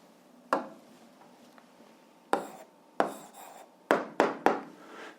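Someone writes out the answer to an algebra exercise with short, sharp scratchy strokes in irregular bursts, separated by quiet pauses, close by in an otherwise silent room.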